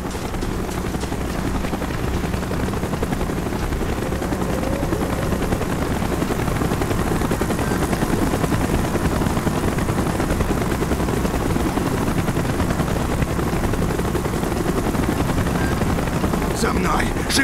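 A helicopter in the video game Call of Duty: Black Ops drones with steady, loud rotor noise throughout. Faint gunfire and voices sit underneath.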